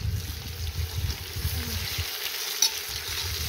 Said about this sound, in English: That pork needs to get nice and brown now.